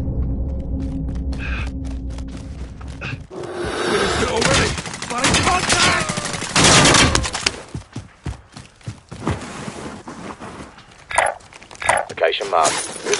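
Gunfire in the video game Call of Duty Warzone: a loud, dense stretch of rapid shots in the middle, with scattered sharp cracks before and after it.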